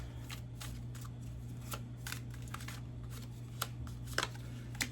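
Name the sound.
shuffling tarot cards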